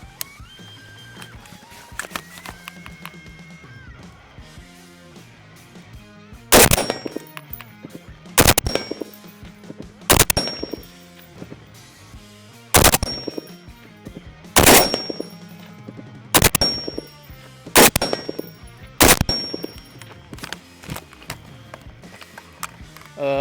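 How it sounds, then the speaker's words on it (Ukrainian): An FN SCAR-L rifle fires repeatedly at a range, loud sharp shots in short bursts spaced a couple of seconds apart, with quieter clatter between them. "Зараз пробую зробити кілька пострілів чергою."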